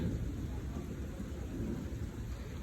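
Thunder rolls low and sustained during a rainstorm, a steady rumble mixed with the constant patter of rain, heard without speech.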